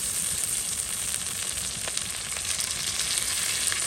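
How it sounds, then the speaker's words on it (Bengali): Ginger and garlic frying in hot oil, a loud steady sizzle and crackle that runs without a break, with a few faint clicks of stirring. "এখন হচ্ছে আদা রসুন ফোড়ন দিয়ে দেবো"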